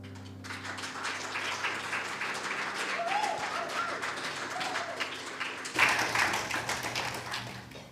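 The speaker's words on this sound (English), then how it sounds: "Another round of applause." A crowd claps steadily in a dense wash of applause that swells briefly near the end, with some faint voices mixed in.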